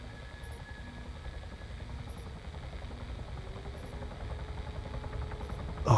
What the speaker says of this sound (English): There's a helo.